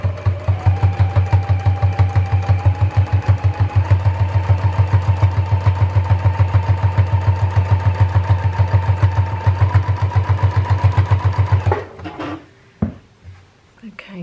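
A sewing machine stitches down quilt binding in a steady, rapid rhythmic whir for about twelve seconds, then stops, followed by a few soft handling clicks and rustles.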